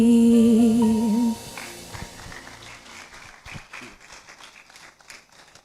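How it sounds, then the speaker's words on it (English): An audience applauds at an inaugural public lecture event. A loud sustained musical note ends abruptly, giving way to scattered hand claps that thin out and fade over the following seconds. "I believe they deserve another round of applause"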